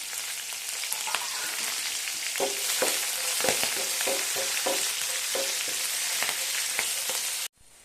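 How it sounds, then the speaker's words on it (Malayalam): Green chillies and curry leaves sauté in hot oil with crushed garlic for a ginger-mango pickle, a steady loud sizzle broken by repeated scraping stirs before cutting off abruptly at the end. "കുറച്ച് പച്ചമുളക് ഇട്ട് കൊടുക്കാം. കറിവേപ്പില ഒന്നിച്ചിട്ട് നമുക്കൊന്ന് വഴറ്റിയെടുക്കാം."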